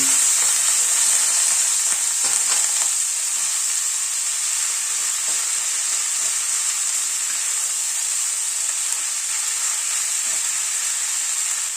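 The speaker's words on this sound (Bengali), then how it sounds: "গ্যাসের ফ্লেমটাকে কম করে ফোড়নটাকে একটু ক্র্যাক করিয়ে নিচ্ছি এবার বাঁধাকপিটা দিয়ে দিচ্ছি" Cabbage hisses and sizzles steadily in a pan over low flame after being added to a crackling spice tempering with asafoetida, a dense continuous frying sound with occasional stirring scrapes and no talking.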